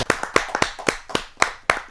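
Hands clap loudly and a little unevenly in an audience at a Hindi poetry gathering (kavi sammelan): a quick series of sharp, close claps with short gaps between them and no talk.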